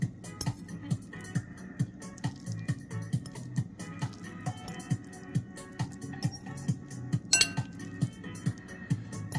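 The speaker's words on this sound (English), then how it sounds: "give another stir to the broth" A spoon stirring miso ramen broth in a pot while cooking instant noodles, giving a regular series of light metallic clinks and taps against the pot at a steady rhythm.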